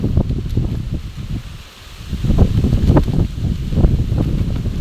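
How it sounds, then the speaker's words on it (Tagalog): Gusty wind buffets and rushes in uneven surges, rustling and roaring close to the microphone with no talking. "Malakas po ang hangin"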